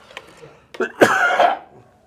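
A single harsh cough with a throaty rasp, close and fairly loud, preceded by a small breathy catch.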